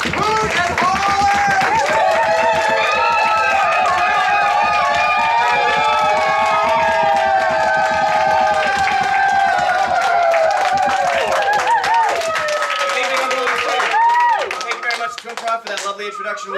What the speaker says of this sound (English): Clap your hands! Hoot and holler!